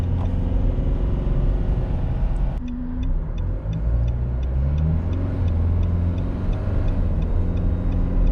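A Nissan NP300 fitted with an iDrive throttle controller runs its engine steadily and loudly throughout, a low continuous rumble that lifts and swells as the driver adds throttle, with a faint regular ticking alongside and no talk.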